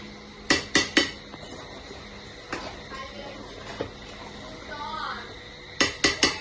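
A ladle stirs chicken khichdi in a large pressure cooker pot, with a few quick bursts of sharp metallic clinks at the start and end and softer scraping and tapping in between.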